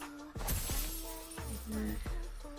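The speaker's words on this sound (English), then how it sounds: "So she just smashes a bag full of money." Fortnite emote in which a character smashes a bag full of money, a loud shattering crash followed by a few clattering impacts and tonal game effects, alone without talk.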